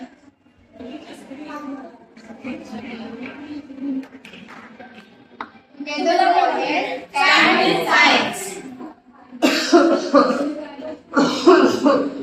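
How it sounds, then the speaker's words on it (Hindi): Harsh, repeated coughing fits break out in bursts, loud and close, between stretches of talking voices, during a street play at a Mumbai hospital. "इसको देखो कितनी खांसी हो रही है।"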